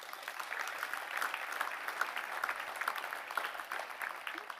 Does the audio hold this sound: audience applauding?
yes